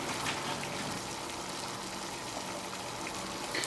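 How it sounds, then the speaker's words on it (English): Water boils in a pot while a sour catfish stew is being prepared, giving off a steady, dense rushing and bubbling hiss at a constant level with no pauses. No one speaks. "The water is boiling"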